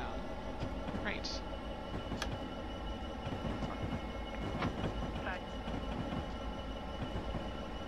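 Freight train in Train Simulator 2015 rumbling steadily along the rails with faint clicks and brief squeals, a continuous near-field rolling drone beneath occasional talk.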